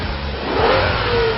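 A Bentley Continental GT engine revs up in a brief, loud surge, rising and holding a strong mid-pitched growl with no talk over it.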